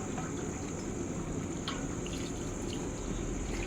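Water poured into a pan of frying, well-browned meat, a faint steady sizzle and liquid hiss running unbroken for a few seconds with no talk.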